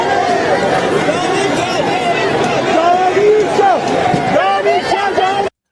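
A huge crowd of protesters in Mashhad, Iran fills the air with a dense, loud roar of many voices shouting and chanting together, sustained and close throughout.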